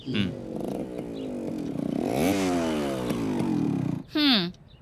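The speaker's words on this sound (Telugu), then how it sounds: "ఎన్నిసార్లు చెప్పినా బైక్ మెల్లగా నడపనే నడుపుడు" A motorcycle ridden nearby, its engine rising and falling in pitch through repeated revs, ending in a sharp high whine, with background sound under it.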